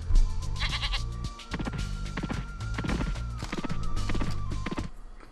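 The Warlock, transformed into a sheep in the video game Spyro 2: Ripto's Rage, bleats repeatedly over busy game music with clopping hoof-like effects, several bleats spread across a few seconds, fairly close and clear.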